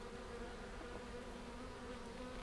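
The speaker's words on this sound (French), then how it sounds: "Je sais pas ce qu'elles ont les abeilles là." Honey bees buzz steadily around an open beehive frame during an apiary inspection, a dense, continuous drone of many wings close by with no talking.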